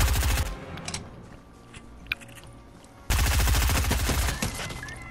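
Rapid, heavy turret gunfire in a video game, a close, rattling burst that stops, leaves a quieter lull with scattered shots, then resumes at full force.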